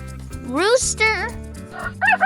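A rooster crows once in a short, rising-then-falling call, loud and close, followed by a few softer clucks, over a background music track.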